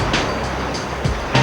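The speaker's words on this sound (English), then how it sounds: "That noise, a whirlpool." The dense roar of a whirlpool rushes without a break from start to finish at steady loudness, with faint bumps heard under the broad wash of water.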